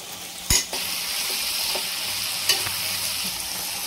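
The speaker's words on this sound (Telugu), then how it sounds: "ఆ వెజిటేబుల్స్ బాగా ఫ్రై అయ్యాక చాప్డ్ పొటాటో వేసుకోవాలి" Mixed vegetables and chopped potato frying in a pan for pav bhaji, a steady close sizzle punctuated by a couple of sharp clacks of a spatula or ladle against the pan.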